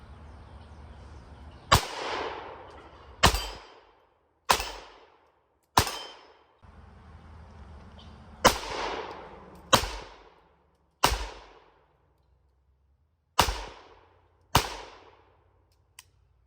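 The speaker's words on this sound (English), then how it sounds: "this pistol's still pretty dang loud, so definitely gonna wear these earmuffs for this" A Sig P322 .22 LR pistol fires at AR500 steel targets outdoors, with nine sharp, loud shots at uneven intervals. Each crack rings briefly off the steel and decays quickly, with quiet gaps between shots.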